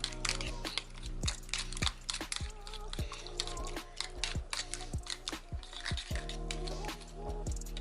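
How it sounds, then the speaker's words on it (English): Whisk or fork beating an omelette mixture of eggs in a bowl, a quick run of light clinks and wet taps against the bowl's side, close and fairly soft, with no talking. "I'm gonna mix up the omelet"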